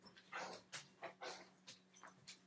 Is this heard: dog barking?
yes